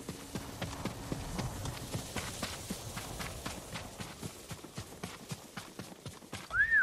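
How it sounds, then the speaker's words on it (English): Steady rhythmic hoofbeats of a horse trotting in the video game Ghost of Tsushima, clip-clopping close by, ending with a short high whinny. "Horse."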